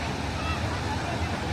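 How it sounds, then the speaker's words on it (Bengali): Fast-flowing river water rushes at Rajmohana near Ghatshila, a steady, loud wash of broadband noise with some wind buffeting the microphone. "ভীষণ জোরে জল যাচ্ছে।"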